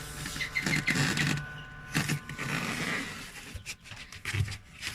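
A homemade egg incubator running gives a close mechanical whir and rattle with uneven bursts and brief pauses, heard without any talking.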